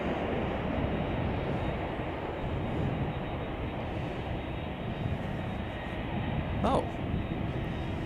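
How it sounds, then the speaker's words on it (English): An arriving Boeing 767-300ER from New York roars at Chicago O'Hare airport. The jet noise is loud, steady and broadband throughout, and a voice briefly exclaims near the end. "We have a Boeing 767-300ER coming in from New York."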